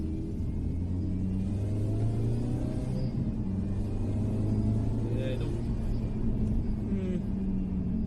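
Mini Cooper S R53 driving on a first run, its engine a steady low rumble with a slight rise in revs, heard from inside the car under brief talk.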